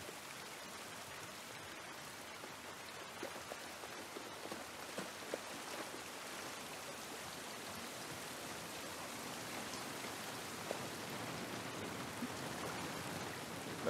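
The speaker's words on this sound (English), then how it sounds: "This rain ain't gonna do us any good." Steady rain falls throughout in the video game The Last of Us Part 1, a dense, even patter of drops on surfaces, close and continuous, with no talk over it.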